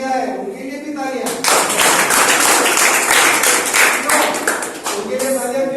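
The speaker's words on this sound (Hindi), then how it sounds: "और जिनने पार्टिसिपेट नहीं किया है उनके लिए भी तालियां।" Children and adults at a National Science Day school science exhibition break into loud applause for non-participants, a voice speaking briefly before the dense clapping swells and runs several seconds, then fades back under talk.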